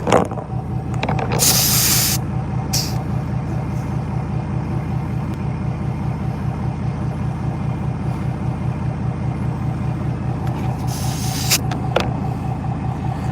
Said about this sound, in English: I don't think this compressor is capable of filling it up to where it needs to be